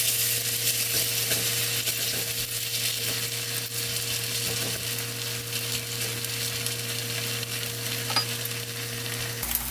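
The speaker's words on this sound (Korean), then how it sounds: "반죽해서 이제 구워보겠습니다." Seaweed fulvescens pancake batter fries in about two spoons of oil in a pan, giving a steady, close sizzle and crackle that continues unbroken throughout with no voices.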